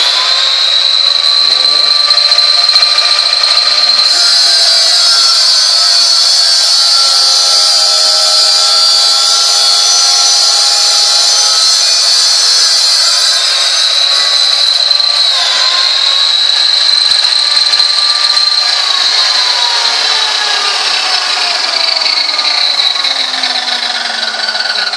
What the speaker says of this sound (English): So I put it on this table saw here.